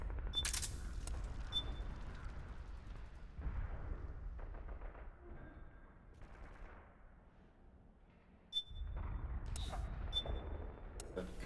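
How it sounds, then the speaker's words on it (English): Sharp blasts and crackling bursts from a flashbang grenade in the video game Metal Gear Solid 4, including a sudden loud hit near the start and another strong burst later, amid rumbling game effects. "That's a flashbang."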